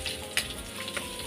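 Tomatoes frying in a pan while cooking escabeche, a soft continuous sizzle with a couple of brief louder crackles, faint and close, with no speech.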